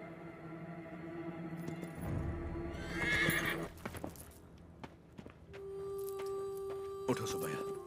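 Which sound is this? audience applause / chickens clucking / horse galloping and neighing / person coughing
horse galloping and neighing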